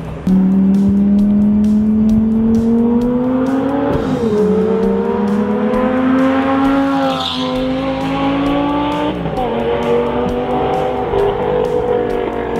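A Lamborghini Gallardo engine roars loudly and continuously, pitch climbing through the revs, dropping at gear shifts, then rising again, close and overpowering.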